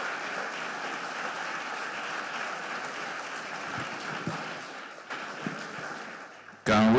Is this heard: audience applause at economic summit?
yes